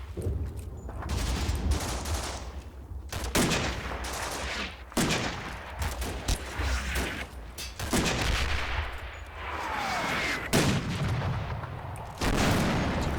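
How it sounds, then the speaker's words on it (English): Battlefield combat in the game Combat Mission Battle for Normandy: a steady barrage of artillery and gunfire with repeated booms and crackling volleys, loud and continuous across the scene with no talking. "Taking some artillery fire still."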